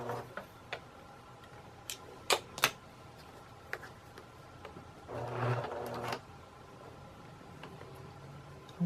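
A sewing machine backstitches through heavy cardstock while a purse strap with a D-ring is being repaired. Soft ticking needle clicks sound at first, then a short whirring burst of stitching runs nearby, with quiet mechanical knocks around it.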